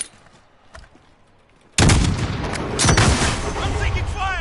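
Enemy gunfire in a PS4 shooter: after a quiet stretch with a few faint distant shots, a loud barrage of heavy gunfire and booming impacts suddenly erupts and continues densely to the end.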